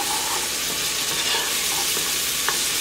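Garlic sautéing in a pan for spicy Tex-Mex chili, a continuous close sizzle and crackle of frying with faint stirring scrapes, no talking.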